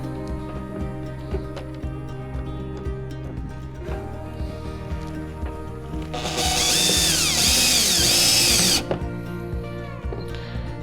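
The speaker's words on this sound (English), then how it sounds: "I'm just gonna go straight into the plastic with this screw" A power drill drives a screw into the plastic hull of a Hobie Mirage Passport 12.0 fishing kayak, with a steady high whine for a couple of seconds amid quieter tool handling and clicks.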